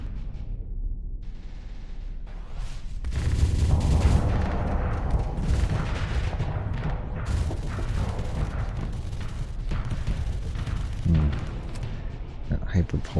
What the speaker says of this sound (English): That hyper pulse hasn't been firing. There it goes.